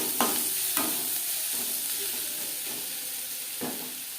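Onions frying in oil with turmeric powder and salt, a steady close sizzle and hiss with a few sharp stirring scrapes spaced through it.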